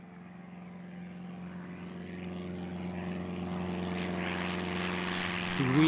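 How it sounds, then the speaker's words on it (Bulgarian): A Piper 28 light aircraft doing touch-and-go practice climbs away after takeoff, its propeller engine droning steadily and growing gradually louder and nearer over several seconds. "ето вече се чува рево от мотора му. Това е един Piper 28, който току-що набра първоначалната си височина."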